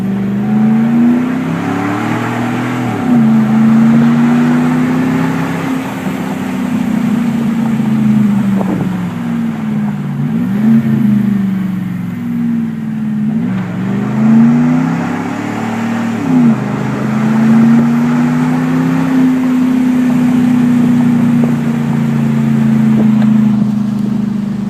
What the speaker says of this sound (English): Exhaust just sounds great on